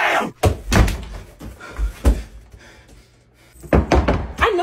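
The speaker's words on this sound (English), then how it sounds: "Wait, don't shut the door." A classroom door thumps shut in a comedy sketch, a few dull knocks and bumps spread across the moment with brief stretches of quiet between them, no voices over them.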